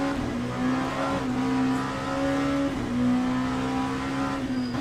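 Megane race car engine in the racing game Le Mans Ultimate, a steady droning engine note holding a sustained pitch with slight rises and dips, close and continuous throughout.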